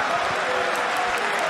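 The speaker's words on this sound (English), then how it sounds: "Get a nice round of applause." Crowd applause at a Badr Hari kickboxing fight, a steady wash of clapping from a large arena audience, held under a commentator's talk.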